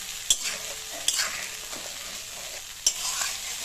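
Ginger and green chilli paste masala sautéing in a pan, a soft steady sizzle broken by a few sharp scraping clicks of a spatula stirring against the metal.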